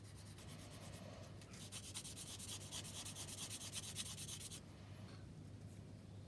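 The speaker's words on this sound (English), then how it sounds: "so that's all sanded smooth" A small part of a Tamiya 1/32 Mosquito model is sanded smooth by hand, giving a steady, faint, scratchy rubbing that runs throughout.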